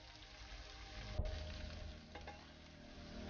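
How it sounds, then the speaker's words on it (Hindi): Cooked rice being folded into a pot of veg biryani, slow soft scraping and stirring over a low steady sizzle, close with one brief knock of the spoon. "अब इसको बहुत आराम से धीरे धीरे बिल्कुल अच्छे से चला ले इसको"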